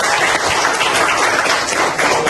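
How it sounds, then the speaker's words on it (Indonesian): A high school mathematics class bursts into applause for a student, with dense, steady clapping from many hands that lasts a couple of seconds and stays loud and close throughout. "Tepuk tangan untuk Reni"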